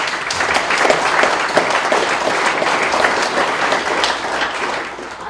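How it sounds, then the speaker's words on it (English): A crowd at a Veterans Day ceremony in a veterans home applauds the Tuskegee Airmen, loud steady clapping from many hands that holds for several seconds and tapers slightly at the end. "And they are to be applauded"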